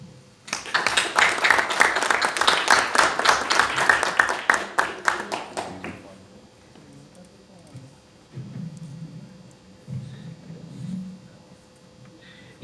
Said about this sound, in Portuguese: gostaria de pedir uma salva de palmas a todas as mulheres